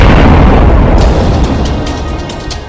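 Loud, sustained explosion boom from a chemical blast at a coal factory, a heavy low rumble that fills the opening and slowly decays, with faint crackling debris bursts scattered over the tail, no voices.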